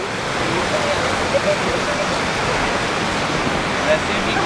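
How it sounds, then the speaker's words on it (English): A waterfall along a crowded mountain trek to Kheerganga, heard as a constant, fairly loud rushing roar with no break or change in level. "look at this waterfall, man."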